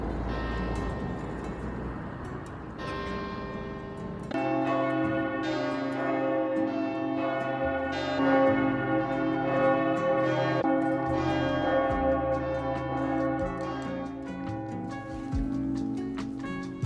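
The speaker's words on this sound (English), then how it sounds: "decided to follow the sound of ringing bells in the distance" Church bells ringing in the distance, several bells striking in overlapping, irregular peals that swell after a quieter start and keep resonating, fairly soft and with no voices.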